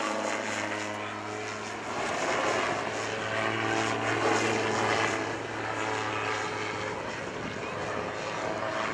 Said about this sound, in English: another demonstration of the sheer controllability of the auto gyro